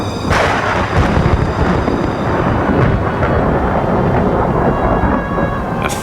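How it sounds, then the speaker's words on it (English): A fierce nighttime storm: loud rolling thunder over dense, steady rain, with heavy rumbling throughout and no voices. "A fierce storm was brewing, and Primrose was lost and alone."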